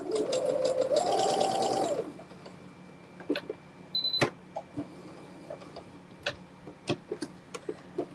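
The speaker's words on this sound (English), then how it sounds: "Little tiny backstitch." A sewing machine stitches a tiny backstitch while quilting, with a brief close motor whir of about two seconds, then quiet clicks and light handling noises.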